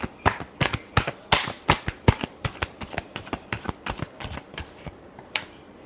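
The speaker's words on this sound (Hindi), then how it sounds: "Last shuffle." Tarot cards are shuffled by hand in a quick run of about twenty crisp, close slaps and flicks at a fairly even rhythm, thinning out toward the end, with no talking.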